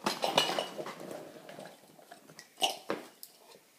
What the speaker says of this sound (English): Tin cup for boiling, collecting water.